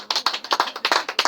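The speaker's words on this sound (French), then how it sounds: "Acclame Jésus de Nazareth." A church congregation claps in acclamation at a large conference, about a dozen quick, sharp claps in a fast, slightly uneven rhythm, close and loud, with no voices.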